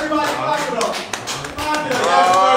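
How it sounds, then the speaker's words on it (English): A small group claps over lively chatter, a rapid, uneven patter of hands running through the whole stretch beneath excited voices. "Yo, clap it up."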